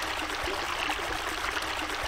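Steady flowing hot spring water in the video game Naruto Ultimate Ninja 3, a constant trickling stream sound, fairly close and even throughout, heard alone without speech.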